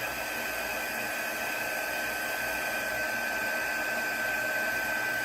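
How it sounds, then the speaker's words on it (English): A steady, loud whooshing roar of a heat gun blowing hot air, constant and unbroken throughout with a faint high whine on top. "So pull out my heat gun, and yeah, there will be some noise."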